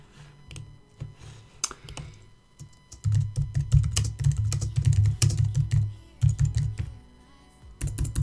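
Someone types on a computer keyboard during a game stream, close and clattery, in quick bursts of keystrokes separated by short pauses, with no voices.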